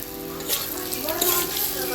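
Pointed gourd slices dropped into hot oil crackle and sizzle steadily, a dense broadband frying hiss with a few brighter bursts as the pieces settle in the pan.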